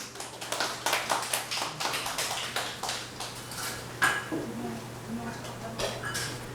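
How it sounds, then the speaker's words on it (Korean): A small audience at a Korean neighbourhood safety-map presentation applauds a committee chair, a moderate patter of hand claps that fades after a few seconds. A steady low hum runs underneath. "박수해 주십시오"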